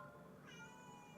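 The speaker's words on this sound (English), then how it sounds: "Mira! That's my cat!" A pet cat named Mira gives a single rising meow, faint and brief, over a quiet indoor background.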